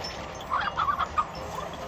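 Chickens in the video game Slime Rancher cluck in a short burst of soft, close calls over a low background hum.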